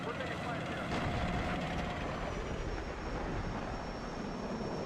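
Helicopters in a video game approach from the north as a continuous broad rotor and engine roar that stays loud and steady throughout.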